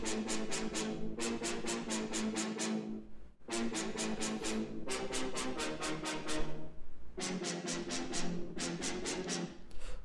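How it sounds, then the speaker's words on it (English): Symphonic brass sample played through a sampler with a filter envelope, for a UK bass track: repeated stabbed chords in rhythmic bursts with short gaps, loud and close, no talking. "Next thing that we have here is this little brass,"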